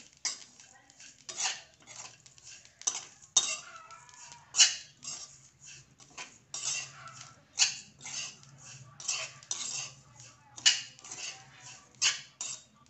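Sesame, poppy seeds, coriander and coconut dry roasting in a pan, stirred with steady rhythmic scrapes and clinks of a spatula on metal, close and moderately quiet.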